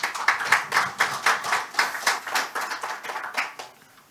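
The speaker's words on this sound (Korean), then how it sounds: "큰 박수로 맞이해 주시기 바랍니다" An audience at a 2021 Korean knowledge-service conference gives a keynote speaker a welcoming round of applause, a short burst of moderately near hand clapping with a pulsing rhythm that thins out and fades over about four seconds.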